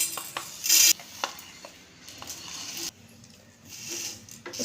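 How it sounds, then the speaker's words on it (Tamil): Whole masala tea spices, dry roasted in a pan on a stove, rattle and scrape as they are stirred, with soft intermittent taps, a brief louder metallic scrape and faint crackling, close and without talk. "இதில் எல்லா மசாலா பொருட்களையும் போட்டு வறுத்தெடுத்துடலாம்"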